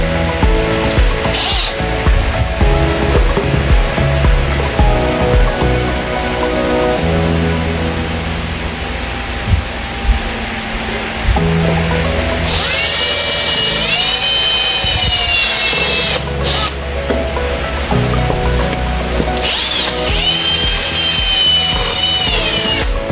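A power drill whirs loudly and steadily, its pitch rising and falling as it bores, with short pauses between bursts.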